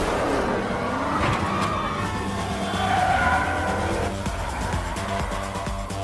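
Cars race on a street in Fast and Furious 6, with loud tire squeals and skidding over roaring engines throughout, and a few sharp bursts over a dense, continuous mechanical rush.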